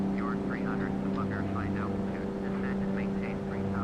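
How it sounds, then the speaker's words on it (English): A propeller aircraft drones steadily in the Flight Simulator X game, with a constant engine hum throughout and short chirping sounds layered above it. "I'm flying this propeller thing, which is actually beautiful"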